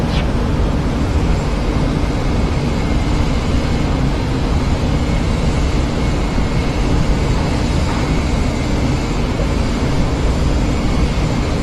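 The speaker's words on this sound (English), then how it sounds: "Peter Young confirming 22 typhoons in formation" Twenty-two Eurofighter Typhoon jets fly past in formation during the RAF100 flypast over London, making a loud, steady, broadband roar that holds unbroken for the whole stretch.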